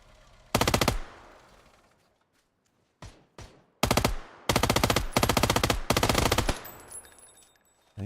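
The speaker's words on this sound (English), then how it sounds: "Oh, he's shooting at this guy?" Automatic gunfire rings out in PUBG on the Rondo map, heard as loud, sharp bursts: one early volley, a couple of brief isolated shots, then several rapid sustained bursts in close succession, with no speech over them.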